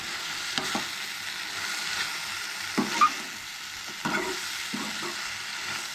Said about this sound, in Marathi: तेज्या मागीर ती बीन बरी मिक्स करून घेयात.